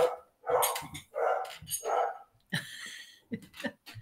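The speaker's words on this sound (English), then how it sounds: "he's gone down to bark at something" A dog barks indoors, a series of loud, sharp nearby woofs with short gaps between them, trailing into quieter yips.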